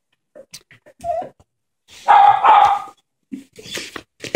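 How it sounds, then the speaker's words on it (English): A dog barks loudly a couple of times nearby, with softer yips and whimpers scattered before and after in a quiet room. "I typically wait for Anna to stop barking"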